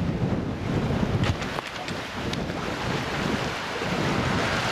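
Floodwater rushes through a swollen river in Williton, West Somerset, making a steady, dense roar with gusty wind noise on the microphone and no voices.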